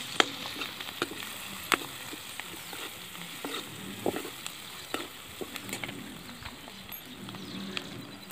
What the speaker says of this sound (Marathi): कांदा जरा लालसर होऊ द्यायचा आहे.